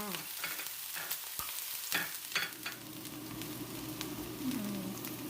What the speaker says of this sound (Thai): ร้อนแล้วใส่หอมให้ใหญ่เข้าไปเลยค่ะ